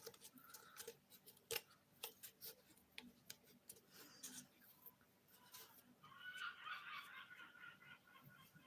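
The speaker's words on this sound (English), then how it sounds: "Seagull." A seagull calls from a rooftop in a few short, sharp cries among scattered ticks and clicks, faint and somewhat distant, with the calls heavier near the end.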